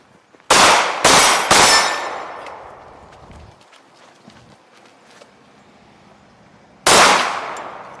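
Three quick, loud gunshots at an outdoor range in a quickdraw race, each ringing against steel targets with a metallic clang and decaying echo, then a quieter stretch before a fourth loud shot near the end.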